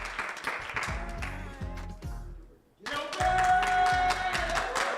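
Applause at a mortgage program graduation ceremony, rhythmic hand clapping from a group that briefly fades out near the middle, then comes back louder and fuller.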